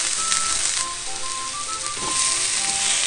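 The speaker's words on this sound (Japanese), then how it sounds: "これをさ、炒めて、ちょっとほら、ガチンゴチンに凍ってるけどさ、炒めてる間にほぐれるし、ね。" Frozen spinach hits hot sesame oil in a frying pan, giving a loud, steady sizzle with a fine crackle throughout and no voices.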